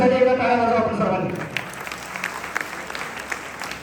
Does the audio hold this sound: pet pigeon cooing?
no